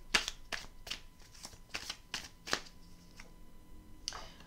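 Tarot cards are handled and laid one over another in a row of crisp, close slaps and flicks, about eight quick card snaps at an irregular rhythm, with quiet room tone between them.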